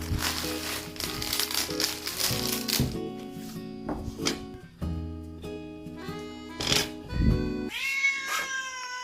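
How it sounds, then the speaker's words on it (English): Repeated cat meows, some long and whiny, mixed with crinkling and rustling noises nearby; the meowing rises loudly near the end. "Every time I cook, this cat keeps meowing."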